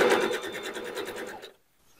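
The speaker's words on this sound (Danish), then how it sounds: "Og så kører jeg med sådan en trykfodsbreddes sømrum og trækker godt ud i sømmen." A home sewing machine stitches a seam around a bucket hat in a quick, even run of close rattling pulses, then stops and leaves near silence.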